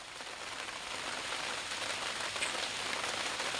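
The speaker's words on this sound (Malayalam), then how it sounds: "ഭയങ്കര മഴ വരുന്നു" Heavy rain pours down in a dense, even roar of drops on surfaces, heard steadily from start to finish with no voices.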